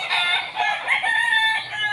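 Several roosters crow in overlapping, drawn-out calls at a farm, loud and continuous with occasional clucking mixed in, no talking.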